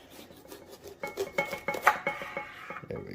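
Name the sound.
knife coring bell peppers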